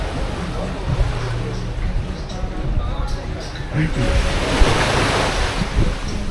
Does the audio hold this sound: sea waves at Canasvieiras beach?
yes